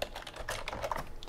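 Steady typing on a computer keyboard while entering Linux commands for a Beaglebone embedded project: quick, close, irregular key clicks run continuously with no one talking.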